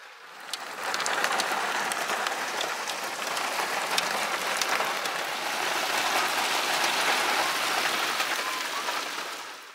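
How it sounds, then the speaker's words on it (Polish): Heavy autumn rain pours steadily and loudly in Sardinia, a dense continuous hiss of drops drumming on surfaces with no break, close by and without speech. "W zasadzie przez ostatnie 3 godziny lało i grzmiało bardzo mocno."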